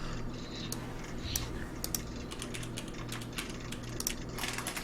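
Rapid, forceful clacking of an IBM beam spring keyboard fitted with a solenoid, a steady dense stream of loud mechanical key strikes and knocks over a constant low hum, with no talking.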